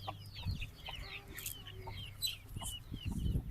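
Domestic chickens cluck softly and repeatedly at close range, with short, scattered calls over a low background hum and no speech.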